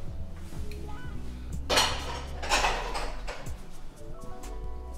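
Dishes and cutlery are shoved aside on a home kitchen counter, making two short bursts of clattering and clinking over a low background hum. No one speaks.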